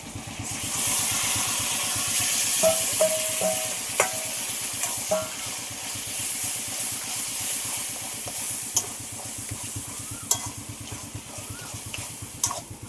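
Boiled taro greens stirred into a pan with shrimp already fried red, giving a steady close sizzle and hiss with repeated scraping strokes of a spatula and occasional clicks, continuous throughout with no talking.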